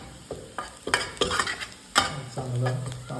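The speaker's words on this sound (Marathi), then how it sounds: "आपला कांदा बऱ्यापैकी ब्राऊन व्हायला लागला" Browning onions sizzle steadily in a pan while a spoon stirs them in a series of distinct scraping strokes, with a low frying hiss building toward the end; no one speaks.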